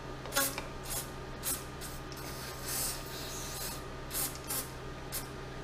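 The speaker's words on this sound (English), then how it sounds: "The nice thing about the brake clean is it just evaporates so quickly." Brake cleaner sprayed from an aerosol can onto 1/5 Race Tech fork kit parts on a Ducati 900SS bevel, in several short hissing bursts of varied length over a steady low workshop hum.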